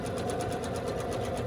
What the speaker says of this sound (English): top stitching it in place with a zigzag